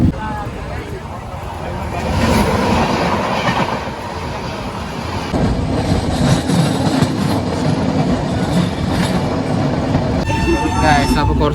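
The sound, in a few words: moving passenger train interior, second class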